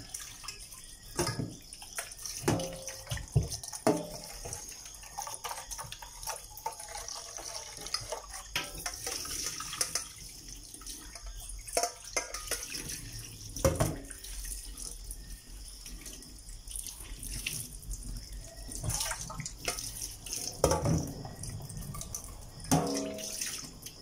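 Lubi-lubi leaves are washed under a running tap, a steady splash of water with dripping and handling noises that continues throughout.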